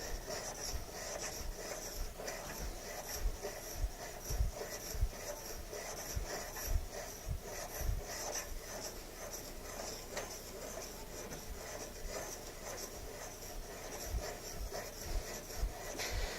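Chisel rubbed back and forth on a sharpening stone at a 30-degree angle, the blade badly damaged; a steady rasping scrape repeats in regular strokes throughout, close and moderately loud, with no talk.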